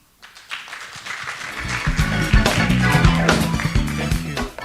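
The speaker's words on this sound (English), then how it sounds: "Please join me in giving him a big round of applause" Conference audience at a global food-safety meeting on antimicrobial resistance applauds a speaker, a modest clapping swell rising from quiet and blended with tonal music underneath, no talk over it.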